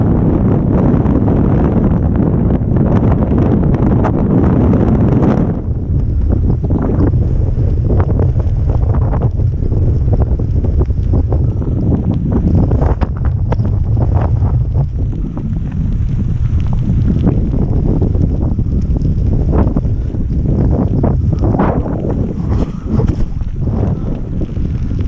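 Strong, loud wind buffets the microphone throughout a mountain bike ride by Lac du Salagou: a continuous low rumble with gusty swells and bursts, and no talk.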